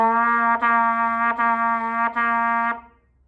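Four steady trumpet notes, all on C, each held about a second and tongued cleanly, played alone and close.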